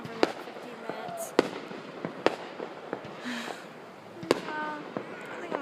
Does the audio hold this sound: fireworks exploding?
yes